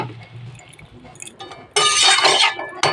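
A metal lid set down on a cooking pot of simmering potato and pointed gourd curry with soya chunks, a sudden loud clattering clink that rings briefly and then a second short knock, with no one talking.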